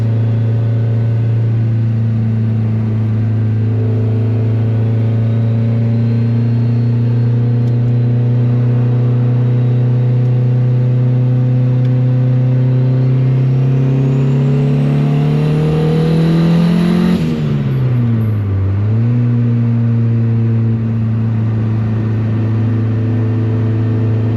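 A turbocharged Honda Civic engine pulls hard through third gear, its steady loud drone climbing in pitch before a sharp dip around a shift and a renewed pull, heard close from inside the car.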